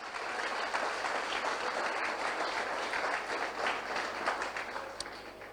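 A church congregation applauding during a pastor's sermon: a continuous, fairly quiet crowd of clapping, dense and even, filling the whole stretch without a break.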